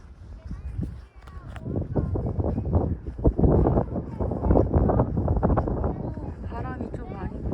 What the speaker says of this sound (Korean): 바람이 좀 많이 불어.